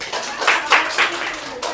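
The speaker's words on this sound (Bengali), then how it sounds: "আলফির জন্য একটা হাততালি দাও" A few quick hand claps from children in a classroom, close and brief, applauding a classmate's answer, with a short burst of about four claps.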